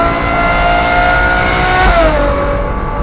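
A Ferrari 812 GTS V12 pulls hard along a straight, a loud, close, sustained engine note climbing steadily in pitch before a brief shift and continued howl.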